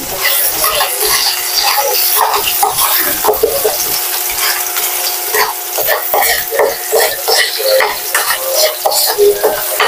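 Garlic sautéing in oil with salt for fried rice gives a steady, loud sizzle and crackle throughout, with occasional scraping stirs of a utensil in the pan.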